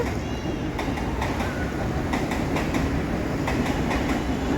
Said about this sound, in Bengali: ওই যে আবার ট্রেন যাচ্ছে ওই যে ট্রেন যাচ্ছে